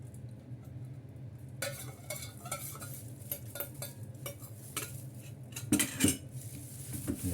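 Chicken wings tossed in fermented red bean sauce inside a bowl, with repeated clinks and scrapes of a utensil against the dish at an uneven mixing rhythm, close and fairly quiet.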